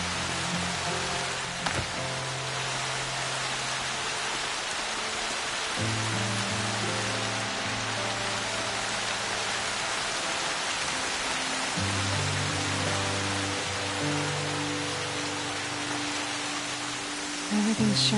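Steady rain hiss fills the scene in the video game Horizon Zero Dawn, with low droning tones and rumbles underneath, continuous and even throughout.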